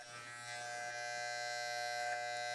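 Electric hair clippers buzz steadily and close while shaving a line into a boy's textured hair during a clipper-over-comb haircut, a constant motor whine with no talking.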